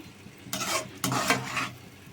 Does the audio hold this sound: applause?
no